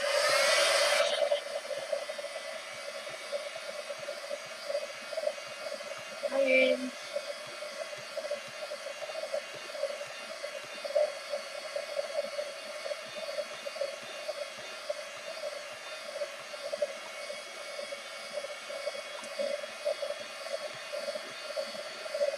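A hair dryer runs steadily for the whole stretch, a constant whirring hum while wet painted burlap dries. It stays moderately loud and close, with brief talk near the start and middle.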